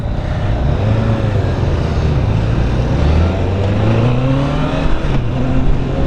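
The engine of a 2015 Honda CB1000R four-cylinder motorcycle pulls steadily under acceleration on a test ride, a loud, continuous drone with rising and falling pitch that runs the whole time, with no talking.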